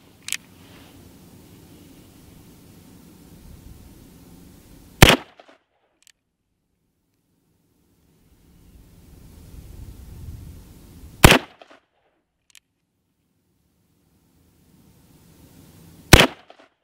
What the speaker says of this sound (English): I just put four rounds into one ragged hole with the Cimarron Bad Boy 44 mag with the addition of a red dot sight